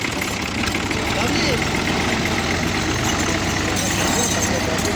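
Tractor engine hauling a thresher on a steep Kashmir mountain slope, a loud, continuous mid-pitched rumble with slight knocking vibration, steady throughout with voices faintly mixed in.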